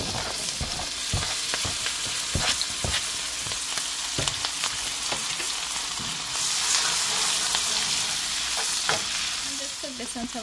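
Garlic and pepper sizzle steadily in butter over a low flame in a pan, a continuous soft frying hiss broken by the scrape and clack of a spoon stirring, close and alone without talk.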